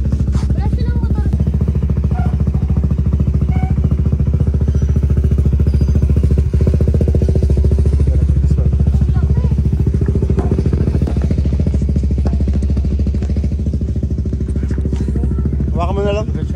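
A motorcycle engine runs steadily and loudly close by outside a house, a constant rumbling drone throughout with people talking over it.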